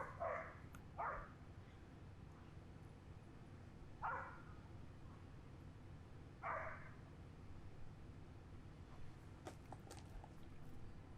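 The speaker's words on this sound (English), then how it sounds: "as Jacob was throwing, lots of barking" A dog barks at a distance on a disc golf course in short separate bursts, a few seconds apart, over a steady low outdoor hum.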